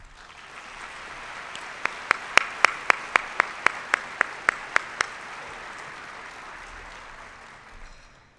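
An audience at a spring breakfast event applauds to welcome a student speaker, a steady wash of clapping that swells and slowly fades, with one nearby pair of hands clapping loud, evenly spaced claps in the middle.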